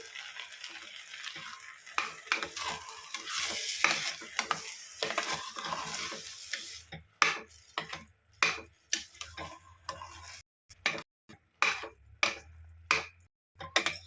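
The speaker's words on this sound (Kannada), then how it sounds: "ರುಬ್ಬಿಟ್ಕೊಂಡಿರುವಂತಹ ಮಸಾಲೆನ ಸೇರಿಸ್ತಾ ಇದ್ದೀನಿ" Ground masala going into a pan for millet rice and being stirred: a soft sizzle at first, then irregular scraping and tapping of a spoon against the pan, moderately quiet.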